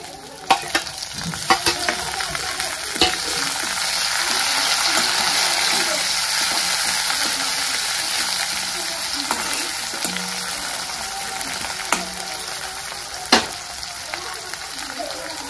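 Chopped onion frying in hot oil for a Maharashtrian chickpea (harbhara) usal, with a steady close sizzle broken by sharp clicks and scrapes as a spoon stirs the pan throughout.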